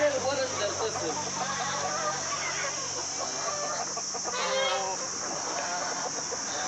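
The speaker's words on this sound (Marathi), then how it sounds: "बघा ही कोंबडी इथे बघा" A farm hen clucks in short, close bursts, with a person talking over and between the calls.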